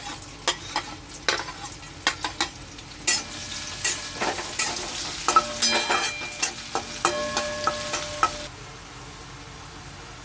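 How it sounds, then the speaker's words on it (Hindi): Finely chopped onions fry in a pan until pinkish, giving a steady soft sizzle broken by repeated scraping stirs, close and moderately quiet, with no talking. "अब इसे पिंकिश होने तक मैं फ्राई कर लूंगी।"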